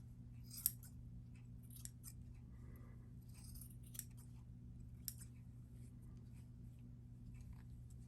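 Scissors trim a craft Christmas gnome, giving a few faint, sharp snips spaced apart over a quiet, humming background.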